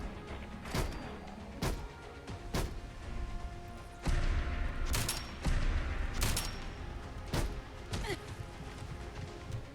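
Shots from a Smith and Wesson R8 revolver in Fallout 4 fire as sharp, separate reports, about nine shots spaced irregularly over several seconds, with game ambience and thuds between them.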